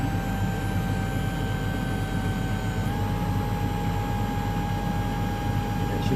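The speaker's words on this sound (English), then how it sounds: "you can hear the hydraulic pump running" A Lexus LX570 AHC suspension hydraulic pump runs steadily as the vehicle rises, producing a constant broadband hum with two faint sustained tones that shift slightly partway through, with no talking.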